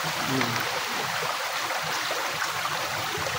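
A shallow mountain stream flows with a steady, even rush of water that fills the whole clip at moderate volume, with no breaks or distinct splashes.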